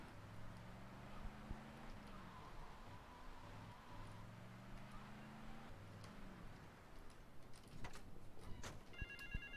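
Telephone ringing in GTA Vice City, a repeated two-tone electronic ring in regular bursts over faint background noise, with light clicks near the end.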